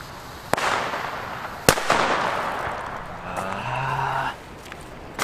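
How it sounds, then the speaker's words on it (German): Comet budget firecrackers going off outdoors, two sharp loud bangs followed by hissing crackle and a whistling burst that fades, with a faint voice in the background. "Hoffentlich auch mit diesen Böllern hier."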